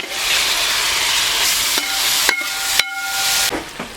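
Beef roast masala, Kerala style, frying and being stirred in a pan: a steady loud sizzle with scraping stirs and a few sharper clinks near the end, no voices.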